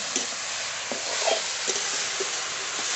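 Water lily stems stir-fried in a pan, a steady sizzle with a handful of soft scrapes and taps of the spatula spread through, close and even in volume.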